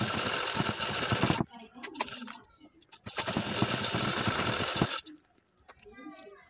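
Sewing machine stitching fabric, sewing an appliqué piece onto the main fabric while making a matka-style back design. It runs in two loud bursts of steady rapid stitching, with quieter handling and pauses between and after them.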